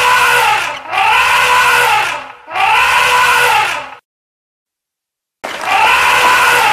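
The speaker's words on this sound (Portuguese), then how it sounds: "Um elefante." An elephant trumpets in three long, loud blasts in quick succession, then falls silent before a fourth blast begins, with no talk over it.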